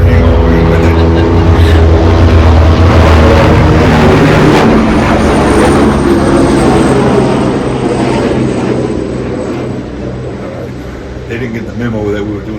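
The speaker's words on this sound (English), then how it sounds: "So that chopper's coming." A helicopter passes overhead outdoors, its loud rotor and engine roar filling the air and slowly fading as it moves away, while people talk over it.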